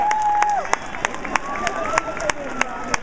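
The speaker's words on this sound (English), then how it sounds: "let's give the girl a nice round of applause." Sparse, sharp claps ring out from a crowd at an outdoor Renaissance festival, irregular and fairly close, mixed with voices and a whistling tone over murmuring people.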